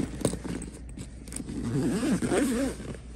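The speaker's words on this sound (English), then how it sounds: "Zip that up." A barber cape's zipper is drawn close up in one quick scratchy run, followed by a short rustle of fabric.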